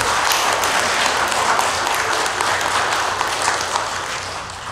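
A church congregation claps for its fathers, a continuous, even wash of many hands applauding at close-to-moderate distance that holds steady and tapers slightly at the end, with no speech over it.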